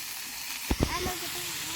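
Fenugreek greens frying in a pan with crushed garlic, a steady sizzling hiss with a couple of sharper clatters of a utensil partway through, close and continuous.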